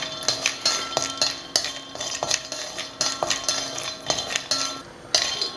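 About 25 cashews are roasted and stirred in a metal pan for a baby's porridge, with a spoon clinking and scraping in quick, irregular strokes, close and clear.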